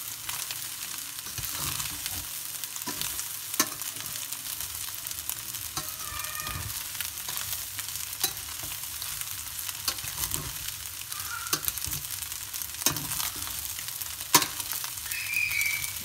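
Fried rice stirred in a frying pan gives a steady sizzle with repeated scraping and tossing strokes, close and continuous, with no talking.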